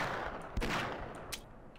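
Automatic sentry turret fire in Half-Life: Source, a rapid burst of gunshots with two sharper cracks standing out, faint and somewhat distant against a hissing background.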